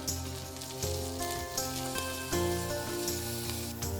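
Chillies and onion frying in a pan for restaurant-style chilli cauliflower, a steady soft sizzle and crackle with faint clinks, moderately quiet and continuous.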